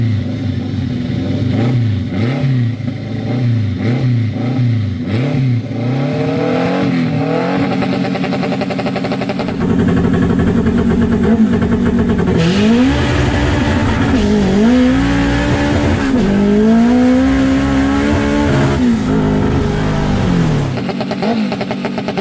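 A 650hp Honda K20/K24-engined car makes a drag racing pass, the engine screaming up through the revs with sharp gear-change dips and rising again, loud and close, ending as the engine cuts out near the top.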